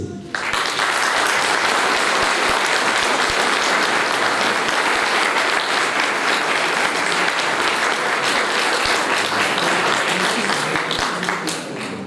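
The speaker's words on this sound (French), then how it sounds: "Alors s'il vous plaît, applaudissez-les." Loud, sustained applause from a large crowd at a mayor's New Year address in Angresse, France, a dense wash of clapping that holds steady for about twelve seconds.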